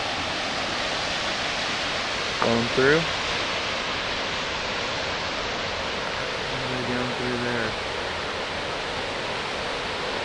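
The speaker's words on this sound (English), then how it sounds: "Nice little waterfall here" Small waterfall beside a mountain trail on the descent from Uncompahgre Peak, a steady broadband rush of falling water throughout, with brief speech and a short whistle-like tone partway through.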